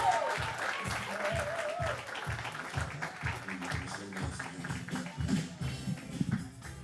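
An audience at a poetry slam claps for a poet being brought to the stage, a lively mix of many hands with some rhythmic clapping and a few murmuring voices underneath, fairly close and sustained.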